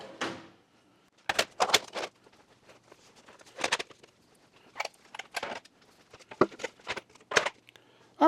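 Plastic 3D-printed trays are set into a drawer of a Kennedy tool chest, producing a series of close, sharp clacks and knocks with short rattles between quiet pauses.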